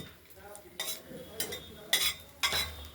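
In a Bengali kitchen, tempering of crushed ginger, bay leaves and fenugreek seeds is stirred in a kadai for shukto. A soft background sizzle sits under four distinct scraping clinks of a spatula against the wok, close by.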